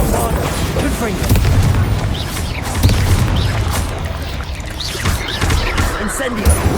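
The Bombarda blasting spell in the video game Hogwarts Legacy sets off a loud, rumbling explosion that swells and rolls on with crackling debris, mixed into dense game sound.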